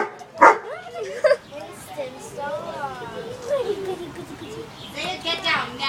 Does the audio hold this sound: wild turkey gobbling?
no